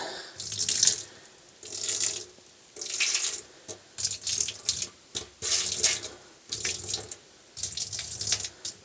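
Water runs in repeated bursts from a tap onto a small pile of cat litter, splashing and gurgling in short pulses with brief pauses between them.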